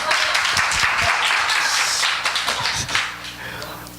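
Church congregation clapping hands together in a worship service, dense steady applause filling the room throughout with voices mixed in beneath it.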